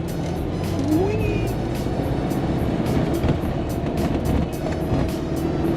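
A classic car driving uphill, its engine a steady, loud, continuous drone with road noise throughout and no breaks.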